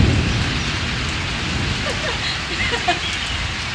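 Heavy rainfall during a thunderstorm in Islamabad, a dense, constant downpour with a low rumbling undertone, loud and close, steady across the whole stretch.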